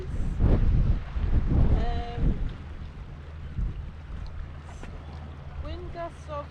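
Wind gusting on Whitehaven pier by the sea, rough low buffeting rumbles against the microphone, strongest at the start and then easing to a steadier blustery rush, with someone talking over it.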